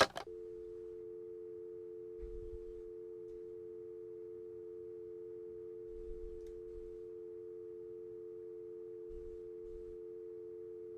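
A steady telephone tone on a call in the Nancy Drew game The White Wolf of Icicle Creek, one continuous held pitch lasting throughout with only faint low thumps underneath and no talking.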